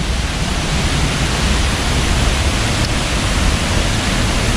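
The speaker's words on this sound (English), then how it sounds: "get a really good view of this waterfall" A large waterfall in the Philippines, heard up close as a loud, steady broadband roar of falling water that fills the whole clip without a break.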